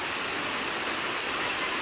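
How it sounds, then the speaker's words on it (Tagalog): A downpour of heavy rain pours down as an unbroken, even broadband rush, like a torrent, close and steady with no voices. "Ang lakas po ng ulan."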